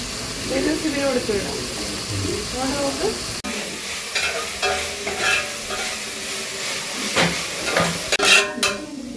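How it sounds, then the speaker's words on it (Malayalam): Prawn curry sautéing in a pan at home, a steady sizzle with spoon stirring and scraping, close and fairly loud, with a few clinks near the end. "ഇതിവിടെ ഇങ്ങനെ വഴറ്റി ഇങ്ങനെ സെറ്റായിക്കൊണ്ടിരിക്കുന്നു"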